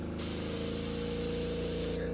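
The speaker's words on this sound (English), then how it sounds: "I recommend practicing on some spoons or other practice pieces before spraying the T-800" An aerosol can sprays aqua gloss clear coat onto a 3D printed T-800 Terminator bust, a single steady hiss lasting under two seconds before cutting off, over a low background hum.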